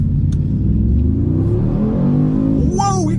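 A Mercedes G63 AMG launches from rest, its engine building into a deep, loud rumbling roar that rises steadily in pitch as the car accelerates hard, heard from inside the cabin.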